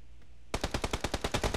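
Gunfire across the street in a PUBG match on PS4, a sudden automatic burst of about a dozen evenly spaced, sharp shots after a brief near-silence.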